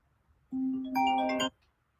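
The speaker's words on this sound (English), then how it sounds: "my phone just starts ringing right in the middle of devotions" A mobile phone ringtone goes off indoors during a daily devotions reading, a loud, close electronic tone lasting about a second, first a single steady note and then a brighter chord layered on top before it cuts off.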